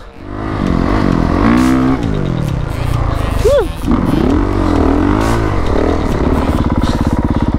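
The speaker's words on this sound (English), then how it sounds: "Dirt bikes are the best thing ever." Dirt bike engine revving hard off-road in the desert at Johnson Valley, loud and close, the note climbing and falling through repeated throttle blips, with brief shouting voices over the engine.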